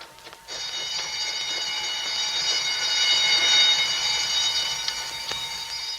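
Steady ringing alarm bell or siren tone sounding loud and continuous for several seconds in an old-time radio crime drama, a statewide emergency alarm after a prison break, with no voices over it.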